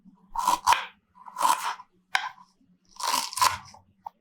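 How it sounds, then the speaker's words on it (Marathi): Fresh ginger being cut for bhaji batter makes four distinct crunchy slicing strokes, close and crisp, in an uneven rhythm with short pauses between. "तर आता थोडं आलं कट करून घेते"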